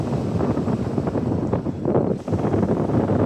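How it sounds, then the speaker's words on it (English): Strong wind buffeting an outdoor microphone, a steady loud rumbling roar that barely lets up across the whole stretch. "it's very windy."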